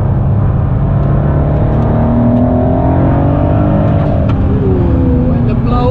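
Ford GT twin-turbo engine pulling hard on the Nürburgring, loud and close from inside the car, with rising and shifting engine pitch through gear changes and someone talking over it.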